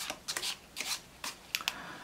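Quick riffling through a deck of playing cards during a four-ace card trick: a few crisp, close flutters and snaps in short irregular bursts, with no talking.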